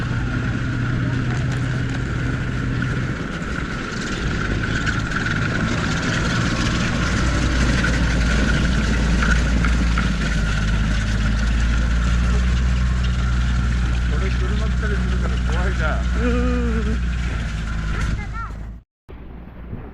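A hotel shuttle vehicle with tractor-style wheels idles on Mizuki Shigeru Road in Japan, a steady, close, low engine rumble that holds for nearly twenty seconds, then cuts off abruptly near the end.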